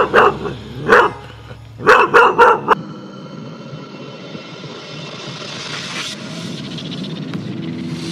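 A 13-month-old border collie barks sharply several times up close, a single bark then a quick burst of three, followed by a quieter noisy background.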